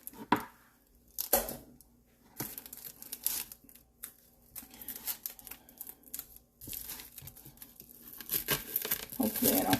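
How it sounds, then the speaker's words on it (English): A knife cutting through half an onion on a board, close irregular crunchy chops and slices separated by brief quiet pauses. "I'm going to cut part of this onion here."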